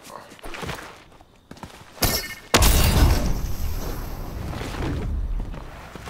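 Fortnite squad gameplay gunfire: sharp broadband bursts near two seconds, then a loud sustained barrage with booms and rattling, mixed with game noise and players talking.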